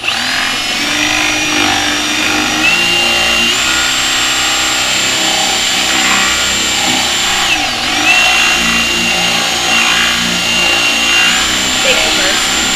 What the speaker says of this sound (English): Power tool noises.